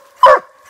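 A walker hound gives a single loud bark at a treed animal during a hunt, one sharp close burst standing alone with no talk around it.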